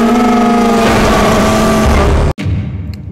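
A car engine in the horror game Haunted Gas Station holds a loud, steady droning hum with a sustained tonal whine, then cuts off abruptly before a quieter rumble returns, with no voices.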